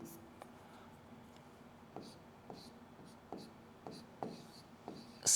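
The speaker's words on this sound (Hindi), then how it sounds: "मैं लिख देता हूं इस लाइन को।" Chalk or marker writing on a classroom board during a chemistry lesson, heard as a series of short scratchy strokes and taps spaced about every half second, fairly close and unaccompanied by talk.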